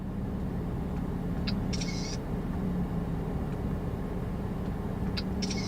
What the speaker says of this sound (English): You see how it's taking a picture?